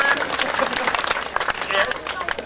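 An audience gives a round of applause for children at a storytelling event, dense clapping with talk mixed in throughout.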